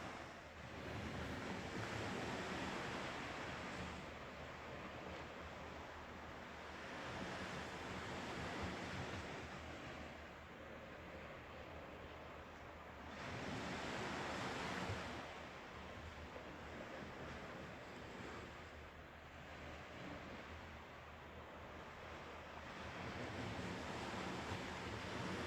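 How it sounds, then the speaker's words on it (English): Ocean waves heard at night from a dark balcony roll in and recede in slow, repeating swells, a soft, distant surf with light wind and no voices. "just go ahead and listen to these waves"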